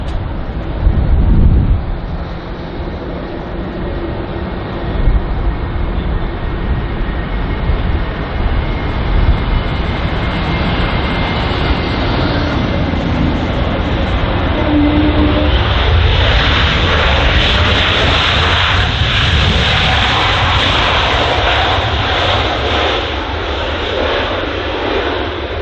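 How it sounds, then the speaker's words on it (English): An aircraft on approach to London Heathrow in strong wind sounds as a loud, steady engine roar that keeps building and broadening with gusting wind noise over about twenty-five seconds. "the wind's blowing this aircraft all around, struggling quite a bit there on his approach"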